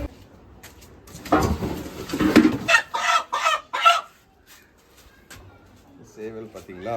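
A village rooster of fighting-cock type clucks in short bursts near the microphone, and a voice talks over it.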